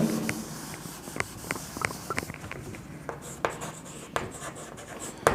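A pen writes an accounting entry on paper, with light, close scratching strokes and small taps in an irregular rhythm, faint and without talk.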